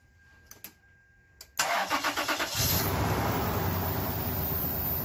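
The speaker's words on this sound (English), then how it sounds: "Now it's firing up." Toyota 4Runner engine cranking briefly after a few quiet clicks, then catching and firing up into a steady, fairly loud idle with a slight rev; no talking.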